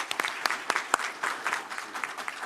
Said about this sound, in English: can we please give our candidates a hand of applause?